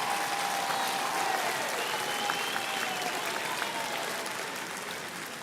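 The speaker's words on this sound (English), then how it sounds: "give a round of applause to your significant others for all their support" Sustained applause from a large crowd at a university graduation ceremony, an even wash of clapping that fades slightly toward the end.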